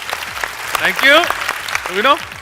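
A comedy show audience claps after a mimicry act, a dense burst of applause mixed with voices, close and loud for a couple of seconds.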